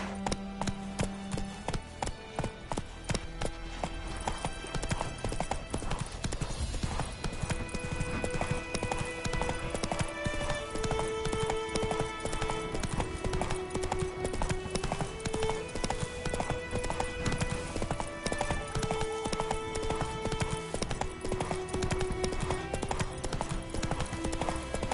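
Hooves of a horse in The Witcher 3 video game clip-clop steadily at a gallop throughout, loud and rhythmic over layered in-game music, with a brief whinny-like sound.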